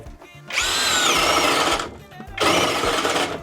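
A Grosser GCD 522T cordless drill-driver with a cracked body, struggling in second speed, whines loudly and close in two sustained bursts separated by a short pause.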